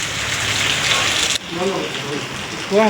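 Heavy rain pours steadily as a dense, loud hiss, broken by a brief drop near the middle; a voice speaks over it in the second half.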